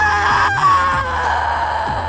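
A wailing, moaning shriek serves as a ghostly scream in a Hindi horror story, with rising and falling cries repeated over a low drone.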